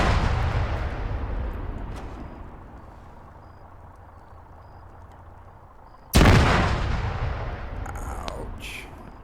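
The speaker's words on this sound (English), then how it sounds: "danger close, throwing grenades" Close grenade blast in a military combat simulation, a sudden loud burst partway through over a low rumble of distant gunfire and explosions.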